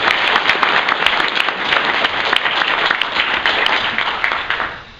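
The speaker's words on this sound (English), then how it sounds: "As you can see, round of applause." A crowd at a vapor industry and advocacy summit gives a steady round of applause, many hands clapping evenly and loudly for several seconds before fading.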